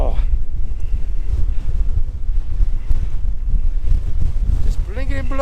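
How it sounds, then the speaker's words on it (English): Strong wind on open Dartmoor moorland roars and buffets a nearby microphone without letup, low and gusty throughout, and a voice exclaims briefly near the end. "It's blinking blowy."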